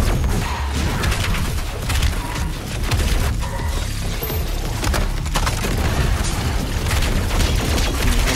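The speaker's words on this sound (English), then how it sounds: "I gotta shoot the turret" Dense, heavy gunfire and explosive booms from the video game Doom Eternal while shooting at a turret, loud and relentless with crashing, shattering impacts layered throughout.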